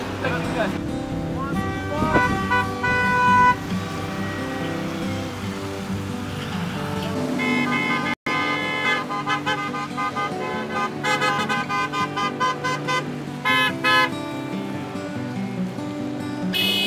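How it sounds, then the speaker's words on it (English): Car horns honk repeatedly from passing cars at a roadside fundraiser for Palestine, sounding in sustained tones and short toots over steady traffic noise, with voices in the background. "You just honk!"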